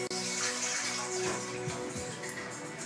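Cold water drained off sliced plantains for maduros in a kitchen, a brief close rushing pour with steady splashing throughout.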